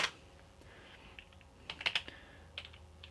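Keys clatter softly on a computer keyboard as a short command is typed. The clicks come in small uneven clusters separated by pauses, close by but quiet.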